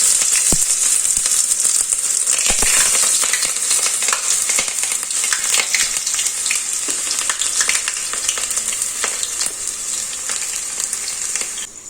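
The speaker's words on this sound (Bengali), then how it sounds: "এবার পেঁয়াজটাকে না কিছুক্ষণ ভেজে নেব, একদম হালকা একটু লাল লাল হবে।" Onions fry in hot oil on a lowered gas flame, crackling loudly and continuously up close with scattered pops, easing slightly toward the end.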